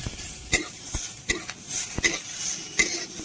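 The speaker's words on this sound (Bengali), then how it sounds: "কাঁচা পেঁয়াজটা একটুখানি ভালো করে নাড়িয়ে নিচ্ছি" Raw chopped onion stirred and fried in a pan for a white potato curry: sharp spatula clinks and scrapes land in an uneven rhythm over a soft, close sizzle.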